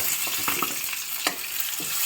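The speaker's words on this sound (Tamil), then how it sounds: "இப்போ ஃபைனலா தாளிச்சு கொட்டுறேன்" Mustard seeds, cumin, dried red chillies and curry leaves tempering in hot oil for a cabbage tamarind kootu, giving a steady close sizzle and crackle with small pops, no voices.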